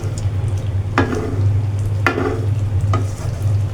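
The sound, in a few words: stirring frying food in a pan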